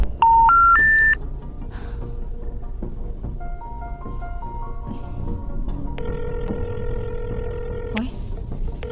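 Telephone keypad dialing: a quick series of loud DTMF tones, then a slower string of beeps and a repeating ringback tone, with faint background noise.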